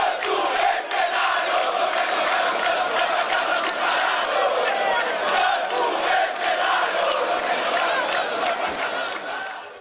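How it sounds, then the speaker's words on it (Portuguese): Santos football fans in a stadium crowd protest against Ganso, a dense and loud roar of massed chanting and shouting that carries on without pause throughout. "Isso incomodou uma parte da torcida, que resolveu protestar."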